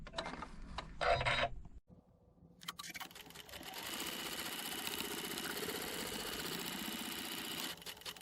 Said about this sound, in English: Then I go to the first stitch, make sure to pull up my bobbin thread and sew.